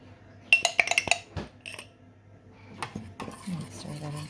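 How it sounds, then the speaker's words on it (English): Ingredients being stirred together in a mixing bowl while baking, with a quick run of clinking utensil taps against the bowl early on, then softer scraping and a little quiet talk. "Stir that in together."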